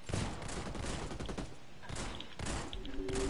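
Dense video game gunfire pours out in a heavy fusillade, with rapid overlapping shots and automatic bursts from a firefight near a tank and a building, staying loud and continuous throughout.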